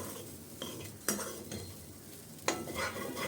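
Fish roe being stir-fried with green and ripe green chillies in a pan, with a spatula scraping and stirring in a few sharp strokes over a steady close sizzle; no talking.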